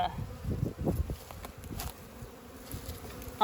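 Bees from a swarm crawling over hive frames give a close, uneven buzzing with soft bursts of wingbeat noise, steady and alone without talk.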